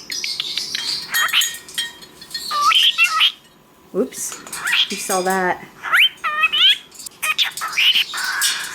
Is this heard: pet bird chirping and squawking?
yes